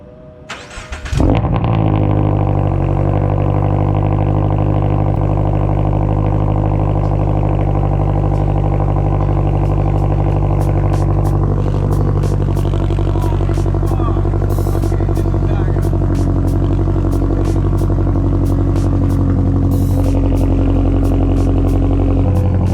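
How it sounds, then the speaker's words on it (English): A car engine fitted with DIY exhaust silencers cranks and catches, then settles into a steady, loud idle with a low rumble that holds for the rest of the clip. "we'll go ahead and get the car started up"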